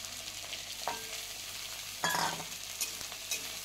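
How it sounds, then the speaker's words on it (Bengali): Thick-cut potatoes fry with onions in a pan for a spicy fish curry. A steady sizzle runs underneath, broken by a few sharp clinks and scrapes as the pieces are stirred, and no one speaks. "আলুগুলো দিয়ে খুব ভালোভাবে ভেজে নেব।"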